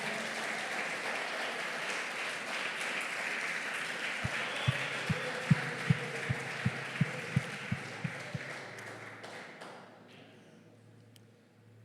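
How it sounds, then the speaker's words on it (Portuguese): Church congregation clapping in praise during a family service, a broad sustained patter of many hands, with a series of sharper regular beats in the middle before the clapping thins out and dies away. "Aplauda ao Senhor."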